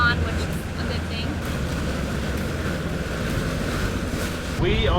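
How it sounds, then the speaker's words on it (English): A sailboat motor sailing on the open sea, with a steady engine drone under continuous wind and wash of waves against the hull, close and fairly loud, with a person speaking briefly. "We are motor sailing."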